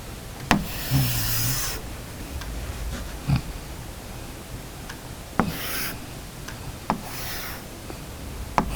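A pencil scrapes across paper while drawing a hexagon: short, crisp rubbing strokes with brief pauses between them, close and fairly quiet.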